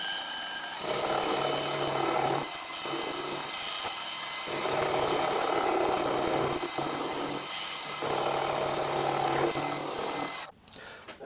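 Steady whirring of a machine cutting a Quorn Mk3 tool grinder base casting, cleaning up the edge of a mounting bolt bush, running continuously and fairly loud with slight changes in pitch, then a brief clatter near the end.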